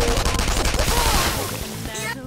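Rapid bursts of Persona 5 Royal gunfire, loud and crackling, with layered effects and a fading tail at the end.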